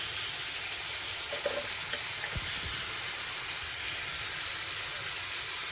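Coriander and cumin powder spices fry in a pan with a steady, bright sizzling hiss that holds throughout, broken only by a couple of soft low knocks midway.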